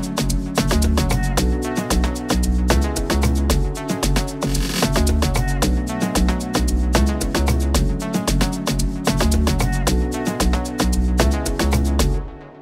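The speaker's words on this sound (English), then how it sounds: "this sums up what an Amapiano track sounds like" A dense, loud Amapiano track built in FL Studio plays continuously, with booming log drum bass and regular snare hits over layered chords, ending abruptly after about twelve seconds.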